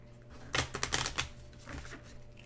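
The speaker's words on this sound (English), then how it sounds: "And we're going to shuffle them again." Cards for the Shadowrift board game are shuffled by hand, making a short, close riffling burst of papery flutters that fades into a softer rustle, with no talking.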